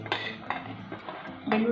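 Green chillies drop into a steel mixer jar in a home kitchen, giving several short metallic clinks and taps in an uneven rhythm, close and fairly clear.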